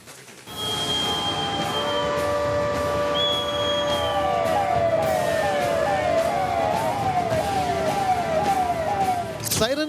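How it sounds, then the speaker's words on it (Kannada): A civil defence siren wails during a mock drill in Dharwad, rising and falling steadily and loudly for the whole stretch, with a second oscillating tone joining in over a continuous background. "siren sound ಮೊಳಗುತ್ತಿದ್ದಂತೆಯೇ"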